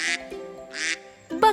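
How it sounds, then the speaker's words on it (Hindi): A duck gives a few nasal quacks, close and clear, short calls spaced apart with a louder burst at the end. "बत्तख"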